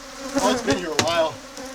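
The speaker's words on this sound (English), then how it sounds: "A lot of bees. Well, that's a big hive." Bees buzzing around a large beehive being cut out and removed, a close, fluctuating swarm hum alone with no talk.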